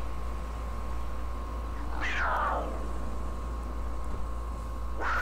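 A pet mountain lion gives two drawn-out, descending meow-like calls a few seconds apart over a steady background hum, moderately near and without speech.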